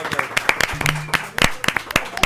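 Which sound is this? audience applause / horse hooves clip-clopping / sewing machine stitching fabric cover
audience applause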